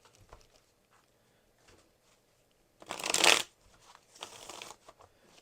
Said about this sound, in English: Let's give this deck 3 shuffle.